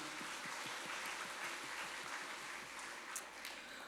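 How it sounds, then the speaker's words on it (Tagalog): Congregation applause at a Sunday worship service, a steady wash of many hands clapping at moderate distance, fairly even for the whole stretch with a couple of sharper claps near the end. "mas malakas na palakpak pa kay Jesus"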